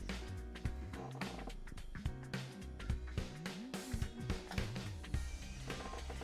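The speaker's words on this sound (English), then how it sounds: "I thought I heard a cat somewhere" A house cat purrs close up in a low, rumbling, continuous rhythm with rising and falling breaths, loud and steady with no talking over it.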